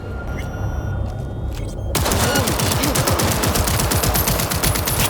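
A sustained burst of rapid automatic gunfire in Cyberpunk 2077 erupts suddenly after a quieter stretch, loud, dense and continuous with booming low thuds throughout.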